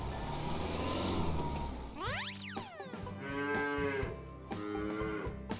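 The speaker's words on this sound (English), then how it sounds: "Look how big this cow is!" A large cow at a children's zoo lets out two long, loud moos close by, the first sweeping up and down in pitch and the second steadier, with a low engine rumble beforehand.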